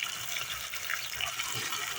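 Water pouring steadily into a container packed with weeds, about two thirds full, a continuous close splashing gurgle with no speech.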